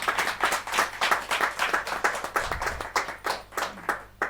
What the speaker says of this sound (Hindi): जोरदार तालियां अच्छी बजें